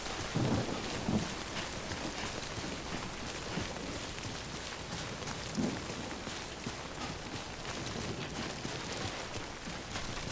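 Steady rain with low rumbling thunder in the video game Death Stranding, a dense, continuous wash of rainfall with a few deeper rolls, no voices.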